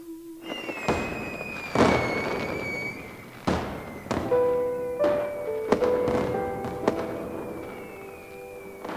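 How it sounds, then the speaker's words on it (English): Stashed fireworks burst in a video-game night sky above a bamboo grove: a series of sharp booms with crackling tails and whistling streaks, repeating irregularly across several seconds without speech. "The night sky was suddenly lit up by the stashed fireworks."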